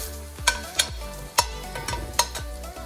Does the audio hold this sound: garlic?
yes